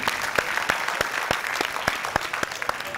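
Audience applause at a school cleanliness presentation, a crowd clapping steadily with a few loud, distinct nearby claps punctuating the dense background of hands throughout the short burst.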